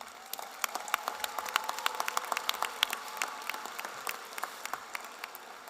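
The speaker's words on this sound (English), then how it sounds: "Let's give all of these students a big round of applause." A high school graduation audience applauds academic honorees, with many hands clapping in a steady, moderately loud burst throughout, crisp individual claps standing out against the crowd.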